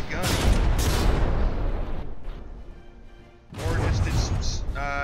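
Heavy naval guns fire on the battleship Richelieu in the game From the Depths: two loud booming blasts with rumbling tails, separated by a quieter gap, while a voice talks over them.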